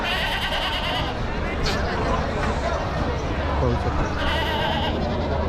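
Goats bleat repeatedly amid a busy goat and sheep market in Chakan, Maharashtra, with a steady crowd murmur and voices chattering throughout.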